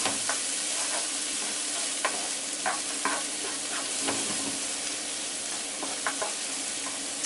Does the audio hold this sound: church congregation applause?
no